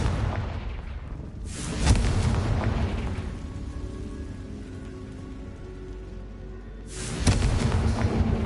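Confringo fire curse explosions in Hogwarts Legacy: two loud fiery blasts with crackling bursts, separated by a sustained, rumbling, hissing burn.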